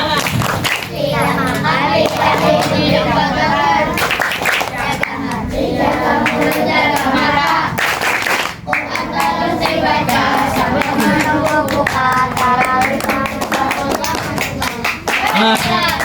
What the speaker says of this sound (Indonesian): Tepuk puasa.